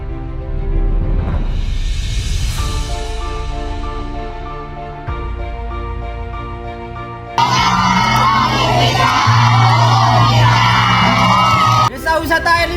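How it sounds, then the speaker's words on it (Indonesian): An audience at a village youth pioneer competition cheers and whoops loudly over music, the crowd noise swelling and staying loud for several seconds. "Tepuk tangan"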